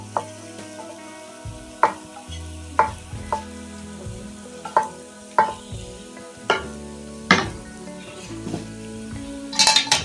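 Khoa is stirred into carrot halwa (gajar ka halwa) cooking in a pan, with a regular series of scraping, clanking spoon strokes about once a second over a low fry, close up and without talk.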